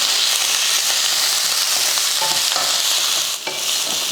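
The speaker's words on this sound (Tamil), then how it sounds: "நல்லா வதக்கியாச்சு மல்லித்தலை வந்து ரொம்ப கருக விட்டுறக்கூடாது" Coriander leaves sauté in a pan for a toor dal chutney, giving a loud, even hiss and sizzle with light stirring scrapes and no talking.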